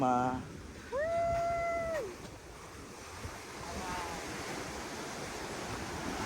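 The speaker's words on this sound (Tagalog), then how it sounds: "Grabe, ang laki ng alon." Heavy surf roars steadily with loud wind buffeting the microphone, a brief high tone sounding early on.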